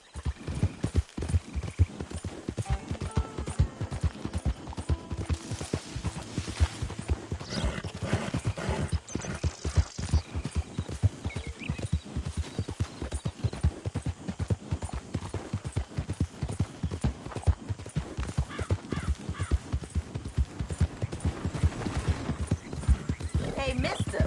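Hooves clip-clop in a steady, continuous rhythm throughout in the video game Red Dead Redemption 2, with a horse whinnying at moments and voices talking over the hoofbeats.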